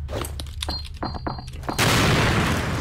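In a video game, a grenade goes off after a string of short thumps and clicks, erupting into a loud, sustained blast that rolls and fills the last second of the clip.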